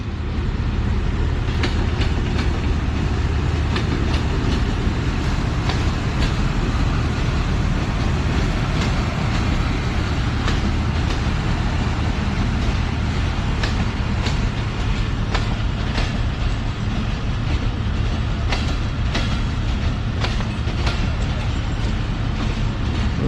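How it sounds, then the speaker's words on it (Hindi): Interior of the Jaffar Express, a Pakistani passenger train hauled by locomotive 6420, with a steady loud rumble of wheels and carriage running throughout, plus occasional faint rail clicks. "(6420) लीड कर रहा है जी कोयटा की शहजादी जाफर एक्सप्रेस को"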